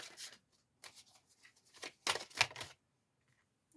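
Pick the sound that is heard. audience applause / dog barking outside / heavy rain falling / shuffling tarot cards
shuffling tarot cards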